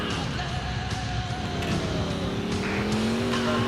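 A Gauntlet car in the video game GTA IV is driven hard on dirt, its engine revving and rising in pitch under loud skidding and tire scrabble throughout a short burst, with no talking.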